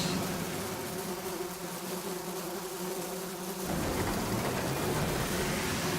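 Swarms of bees buzzing steadily in the video game Sunless Skies, a dense continuous drone that swells a little louder partway through, with no talk.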